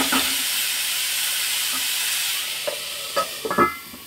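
Tomato masala with chopped tomatoes being stirred and sautéed in a pan for matar paneer: a steady sizzling hiss, with a few light scrapes and clinks of the spoon near the end and no talk.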